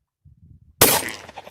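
Glock G29 pistol firing a reloaded round outdoors: a single sharp, loud shot after a moment of quiet rustling, with a short echoing tail.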